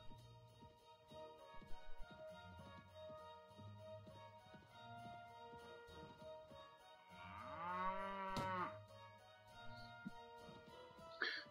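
Cattle moo in the medieval game Mount & Blade Warband: one long, low, drawn-out bellow rises and falls midway, set over quiet ambient game sounds and scattered soft thuds.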